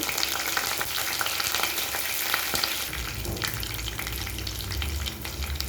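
Garlic, curry leaves, green chillies and dried red chillies frying in hot oil give a steady, dense sizzle that runs unbroken throughout, close and fairly loud, with a deeper bubbling swell near the end.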